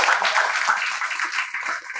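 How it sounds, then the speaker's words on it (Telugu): Audience clapping at a felicitation event for MNS leaders, a dense burst of many hands applauding at once, fairly loud and steady before tapering off slightly at the end. "చప్పట్లు కొడదామా?"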